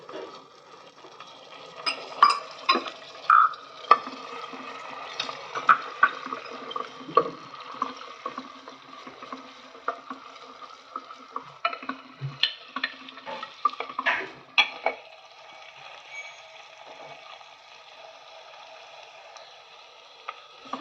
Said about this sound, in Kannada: ಕರಿಬೇವು ಹಾಕ್ತಾಯಿದ್ದೀನಿ.